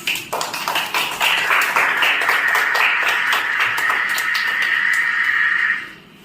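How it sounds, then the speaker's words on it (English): Students in a classroom applaud together, a dense burst of many hands clapping close by, holding steady for several seconds before fading out. "Give me a big round of applause."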